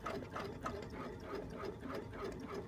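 A Baby Lock sewing machine runs a basting stitch, its needle pulsing in a quick, even mechanical rhythm, close and moderately loud, steady with no voices.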